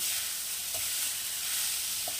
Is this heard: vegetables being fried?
yes